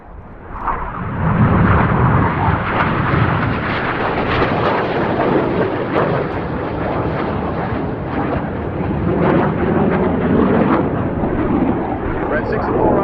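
Red Arrows jets flying a display manoeuvre at the RAF Cosford airshow, producing a loud, sustained roar of jet engines that swells and holds throughout, with a commentator talking over it.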